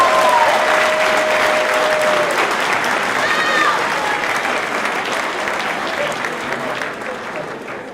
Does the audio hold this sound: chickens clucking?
no